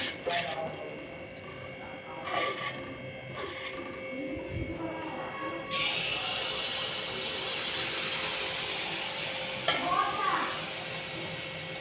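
Mango malpua batter frying in hot oil: a low, steady sizzle that turns into a louder, brighter hiss about halfway through, with a few soft knocks and clatters.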